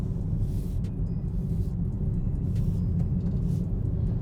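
A 2022 Citroen C5 X with a 1.2 litre 130 horsepower petrol engine and automatic gearbox driving, with a steady low engine and road rumble inside the cabin and no voices.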